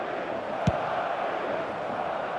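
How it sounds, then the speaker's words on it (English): A stadium crowd in the eFootball 2025 football video game roars and applauds in a steady dense wash, filling the whole moment with broad, continuous noise. "Even some of the opposing fans are clapping that."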